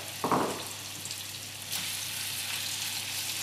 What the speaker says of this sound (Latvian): Karstā sakarsētā eļļā.